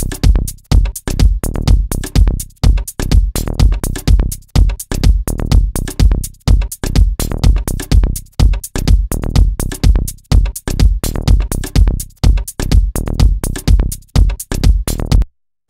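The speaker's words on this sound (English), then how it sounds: "if the next thing I wanted to do was to bring in a loop, well, that would sound like this" Drum loop layered over a kick drum and bass in a Logic Pro X mix, loud punchy beats in a steady driving rhythm that repeats evenly with no talking.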